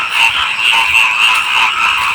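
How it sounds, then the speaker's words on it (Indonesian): Frogs croak on both sides of the listener, a loud, dense chorus of continuous rasping calls that stays steady throughout, with no voices. "suara kodok di sebelah kanan saya dan di sebelah kiri saya"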